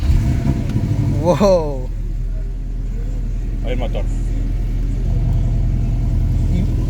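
Porsche sports car at a car show starting up, with a brief rising whine of the starter and engine catch, then a steady low idle rumble that continues under a man's brief exclamation.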